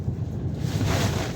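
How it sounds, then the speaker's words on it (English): Storm-driven waves several metres high surge onto the pier at Llandudno during Storm Darragh, a loud, continuous rushing roar that swells toward the end, heavily buffeted by wind noise on the microphone. "Look at the waves, at least 4 or 5 meters high, coming right up onto the pier."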